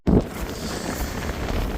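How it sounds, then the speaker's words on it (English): Steady wind buffeting the microphone on a farm, a continuous low rumbling roar with a stronger gust at the very start. "It's windy. It's gotten worse."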